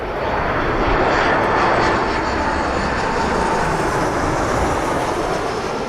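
An airliner passing overhead at Malaga airport, its engines a steady, loud broadband roar that holds level throughout with no break.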